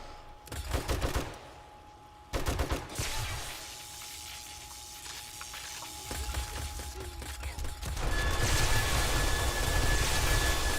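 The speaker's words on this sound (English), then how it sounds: "And also my turrets up above, by the way, up here, up on this top part, also shooting them." Defensive turrets firing from the base walls and rooftop in 7 Days to Die, bursts of rapid gunfire starting in short volleys, pausing, then continuing as a steady, louder barrage with rumbling game ambience.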